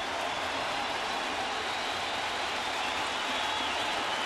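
A large baseball stadium crowd of about 41,000 keeps up a steady, dense roar of cheering and noise during the bottom of the 7th inning, heard from a distance with no break.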